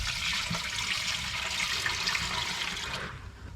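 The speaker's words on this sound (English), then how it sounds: "So let's pour this gas in." Gasoline poured into a repaired vehicle gas tank makes a steady, continuous liquid rush and gurgle that stays near and fairly loud for most of the pour, then tapers off toward the end.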